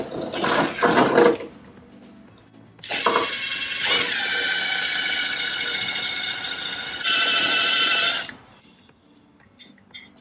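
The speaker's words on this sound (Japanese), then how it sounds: "M8 なので最初 4mm ぐらいで下穴を開けておきます" An electric drill bores a 4mm pilot hole for an M8 bolt in a DIY steel bumper guard, starting with short bursts and then running in a long loud whine that shifts pitch before stopping.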